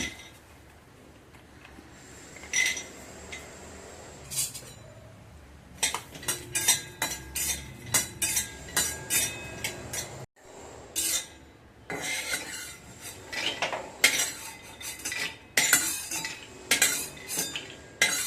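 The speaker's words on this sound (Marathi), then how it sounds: "तेल न टाकता शेंगदाणे भाजायचे आहेत." Peanuts dry-roast in a hot kadhai without oil while a spoon stirs them, giving bursts of scraping and clinking against the metal pan with short pauses between strokes.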